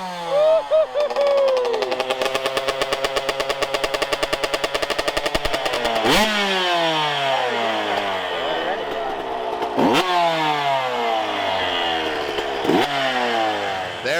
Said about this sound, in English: the 125 will be getting a boost in power as a result of a fresh Bill's pipe